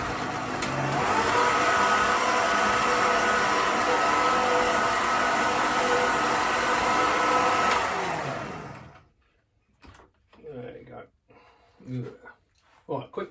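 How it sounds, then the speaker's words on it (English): An electric whisk whirs steadily and loudly for about nine seconds while mixing boilie bait mix, then cuts off. Someone talks briefly after it stops. "Give that a quick whisk."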